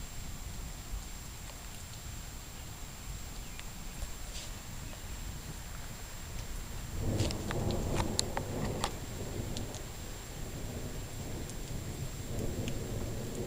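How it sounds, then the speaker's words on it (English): Steady rain falling outdoors on a hot day, a constant soft hiss with occasional taps and a low rumble of thunder in the middle, faint and distant, no speech. "And it was raining a lot harder before."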